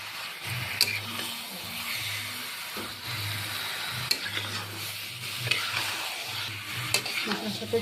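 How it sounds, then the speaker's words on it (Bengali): Marinated chicken is stirred into fried masala in a pan, with a soft continuous sizzle broken by repeated scraping stirs of a spoon, close and moderately quiet. "মশলার সাথে চিকেনটা আমি ভালো করে মিশিয়ে নিয়েছি।"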